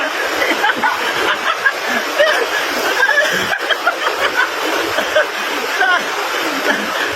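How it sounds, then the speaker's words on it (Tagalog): A strong river current rushes steadily in San Juan, Libertad, Antique, a dense, continuous roar of water close by, with faint voices and brief laughter mixed under it. "ang lakas ng agos ng tubig"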